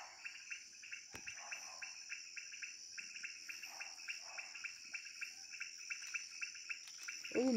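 Steady pulsing chorus of frogs calling, rapid repeated trills in regular bursts, with a constant high insect-like whine; a brief rustle near the end.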